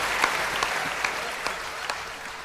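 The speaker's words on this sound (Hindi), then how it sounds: "पवन भैया भी ताली बजा रहे हैं" Applause from an audience at a Hindi kavi sammelan comedy poetry show held in Thailand, a steady patter of clapping with a few sharper claps standing out, moderately loud throughout.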